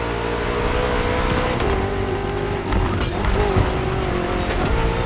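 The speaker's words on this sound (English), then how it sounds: "We're putting 3 BMW MCS to the test over very long distances, and it's your job to drive them one after the other." A BMW M CS races in The Crew Motorfest, its engine holding a steady high-revving tone through shifting gears, with tire squeal and road noise, loud and close.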